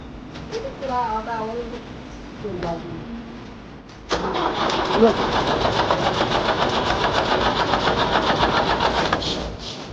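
People talk briefly, then a work vehicle's engine cranks repeatedly with a rough, continuous whirring that never catches into a running idle.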